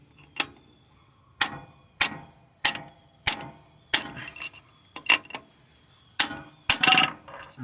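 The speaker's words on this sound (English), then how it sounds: "I'm gonna use this chisel here to take out this axle." A steel chisel is hammered against a Toyota Sienna CV axle, giving about ten sharp metallic knocks at an uneven, roughly one-per-second pace, close and loud with short ringing decays.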